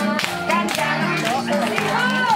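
Clapping from the audience at a kindergarten family-day party for Nahliéli kindergarten, rhythmic hand claps mixed with a children's song and singing voices, steady and fairly loud throughout.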